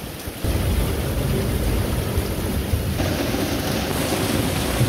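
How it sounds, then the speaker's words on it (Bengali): Heavy rain pours down at Bishoykhali Bazar, Jhenaidah, in a dense, steady roar, loud and continuous with no voices. "তো আজকের বৃষ্টিটা কিন্তু খুবই ভারী বর্ষণ"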